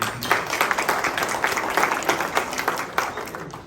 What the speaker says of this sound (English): Dr. Ray Green and Beth, if you could give them a round of applause.